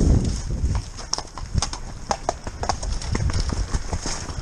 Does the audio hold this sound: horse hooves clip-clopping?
yes